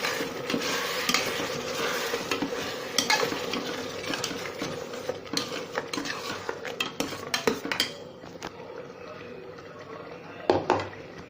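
Chopped and ground tomatoes being stirred into a hot cooking pan, with a constant sizzle under repeated metal spoon scrapes and clinks against the pan, busy and close, ending in a few sharper knocks.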